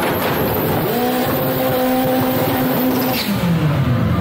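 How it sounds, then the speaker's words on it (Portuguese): A red VW Gol GT does a short burnout, its engine revving hard and steadily with a rising, wavering tire squeal over the roar, loud and close. "Burnout do golzinho vermelho, o pessoal chama de burnout técnico"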